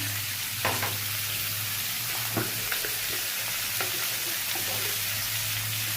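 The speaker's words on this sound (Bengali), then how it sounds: "পেঁপে আলু সব একসাথেই দিয়ে দিয়েছি" Papaya and potato pieces sizzle steadily in a hot pan for a vegetarian curry, with a constant bright frying hiss broken by several soft spatula scrapes and stirs, close and alone.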